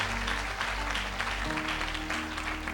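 Clapping from an audience at a motivational talk for medical entrance exam aspirants, a steady wash of applause with a low musical hum underneath.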